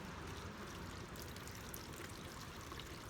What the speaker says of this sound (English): So the first thing you'll do is pour the water in your container.